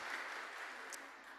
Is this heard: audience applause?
yes